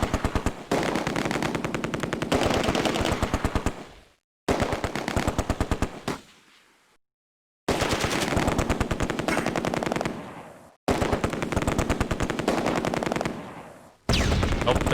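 Vickers and Bren machine gun teams fire in the video game Close Combat, long rapid bursts of automatic fire with short silent gaps between them.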